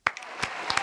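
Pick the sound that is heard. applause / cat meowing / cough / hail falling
applause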